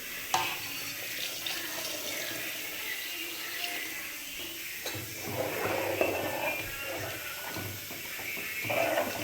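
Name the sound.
water being poured into a cooking pan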